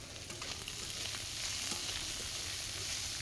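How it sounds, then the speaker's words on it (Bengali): Prawns frying in oil in a pan over a wood fire, a loud, steady, dense sizzle and crackle filling the whole stretch, with no talk. "আর এই যে আমার চিংড়ি মাছটা প্রায় হয়ে এসেছে, আর একটুক্ষণ ভেজে নিলেই হয়ে যাবে।"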